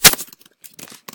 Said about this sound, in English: I just got like a super cannon.